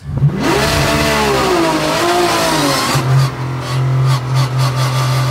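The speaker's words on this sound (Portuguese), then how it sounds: "quando vai sair da imobilidade, ele dá um baita giro lá pra cima e solta." A Porsche 911 GT3 R race car's engine revs sharply upward in loud sweeping pulls, then drops to a heavy steady drone as it pulls away from a standstill, close and dominant with no speech.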